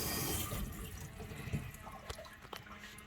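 Water running steadily from a newly fitted kitchen tap into the sink, a continuous broadband splashing hiss with a few small splats and knocks on top, no voices.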